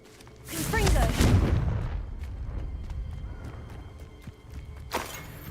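A Confringo fire spell explodes in Hogwarts Legacy, a loud broadband blast with a crackling, rumbling tail that fades slowly, followed by a sharper second burst near the end.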